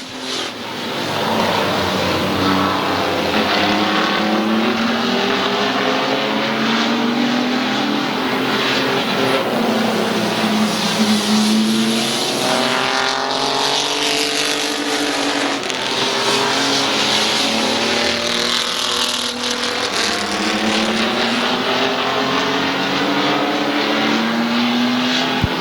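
Race cars roar around Midvale Speedway in a close battle for the lead, engines droning loud and steady throughout with rising and falling revs as the pack sweeps past.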